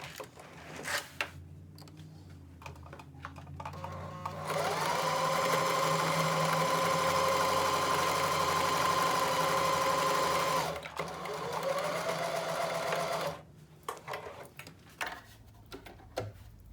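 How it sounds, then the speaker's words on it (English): A domestic sewing machine runs in a long steady burst, stitching fabric guided along the presser foot edge, with a brief pause and a second run, framed by quiet handling noises before and after. "Turn your fabric and sew all the way down."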